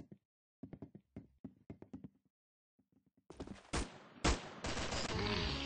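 Gunfire in the Roblox shooter Arsenal: a quick run of soft, tapping shots, a pause, then a louder, denser burst of blasts with a heavy boom near the end.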